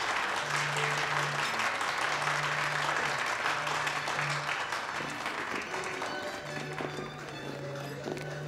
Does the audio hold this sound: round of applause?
yes